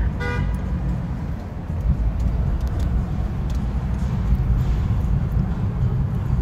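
A car drives through Las Vegas at night, its engine and road rumble low and steady inside the cabin, with a brief horn toot at the start.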